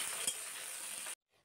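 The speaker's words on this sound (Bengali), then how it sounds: "আর ওই তেলের মধ্যে পটলগুলোকেও ভেজে নেব। পটল দিয়ে দিলাম।" Pointed gourd slices fry in hot oil left from frying potatoes, a loud, steady close sizzle with a brief clink, then cutting off abruptly near the end.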